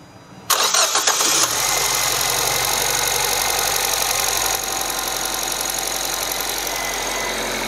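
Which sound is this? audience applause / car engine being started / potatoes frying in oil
car engine being started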